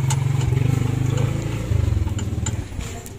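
A motorcycle engine runs after being started, with a close, rapid, pulsing putter that clatters briefly and then fades slightly toward the end, with no talk.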